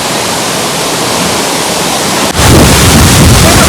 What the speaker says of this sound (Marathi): इकडे पण पूर्ण दगडाचा डोंगर आहे आणि डायरेक्ट मधून पाणी पडतं